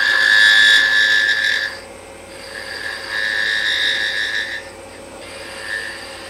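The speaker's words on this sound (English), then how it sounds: "And with the peeling cuts, you can get rid of a lot of wood in a hurry." A lathe tool makes peeling cuts on a spinning wooden sea urchin ornament. It gives a loud, steady, high scraping whine in three long bursts with short breaks between them, and no voices.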